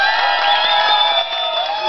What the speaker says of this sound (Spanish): Que se escuche el aplauso para Alfredo